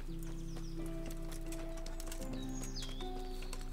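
Horse hooves clip-clop in a steady running rhythm in the medieval video game Kingdom Come: Deliverance, over a constant layer of game music and ambience.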